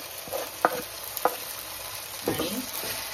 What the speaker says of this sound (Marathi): आता त्यामध्ये हे अननसाचे मी छोटे असे पीस करून घेतलेले आहेत ते घालून घेते